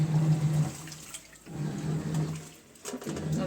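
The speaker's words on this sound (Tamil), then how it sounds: "ஸோ டிட்டர்ஜென்ட்டும் மிக்சட் ஆகி தான் தண்ணி இதுக்குள்ளே விழுறது." Water pours into the drum of a Realme top-load automatic washing machine, mixing with detergent, a steady rushing splash that dips briefly and resumes, fairly close.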